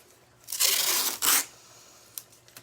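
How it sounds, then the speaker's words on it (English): Tape being torn off a roll while taping up the edges of a paperboard canvas: two close, rasping rips in quick succession, then quiet with a couple of faint ticks. "taping it up."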